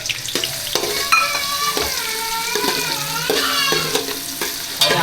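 Onions fry in a pan as the base for a mutton curry, giving a loud, continuous close sizzle. Repeated scraping stirring strokes run through it, and a faint wavering tone sounds in the background.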